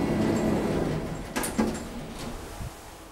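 A lift door at the Neubrandenburg regional library slides open with a smooth rumble and a couple of soft mechanical thuds, heard close and fairly quiet with no talking.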